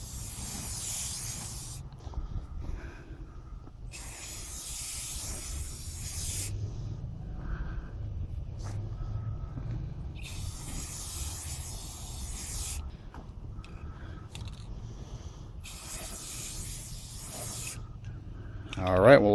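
Aerosol paint sprayed onto a turntable dust cover in four long hissing bursts, each about two to three seconds, separated by pauses with low background rumble and faint handling noise.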